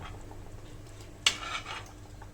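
Paneer pieces are stirred into a pan of butter and pastes: a faint background sizzle, then one sharp scrape of a spoon against the pan followed by a short rustling stir.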